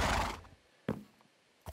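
A horse in the Minecraft video game neighs in a loud, breathy burst, followed by two shorter snorting calls about a second apart, with no talking.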